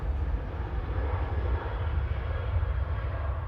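An Aer Lingus Airbus A330-300 widebody arriving at Manchester Airport from New York JFK, a deep, loud engine rumble that rolls steadily with slight surges and carries no voices.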